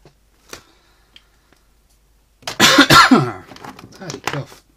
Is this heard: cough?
yes